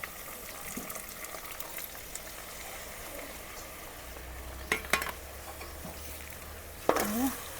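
Gravy goes into cooked okra in a pan for a Kathiyawadi-style bhinda shaak, and a faint, low sizzle follows. A few soft clinks and utensil scrapes come through, and a sharper clatter sounds near the end.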